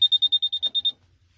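Turn-signal indicator on the steering column of a new-model four-wheel power tiller with power steering gives about nine quick, even electronic beeps. They are close and clear, then stop abruptly into near silence.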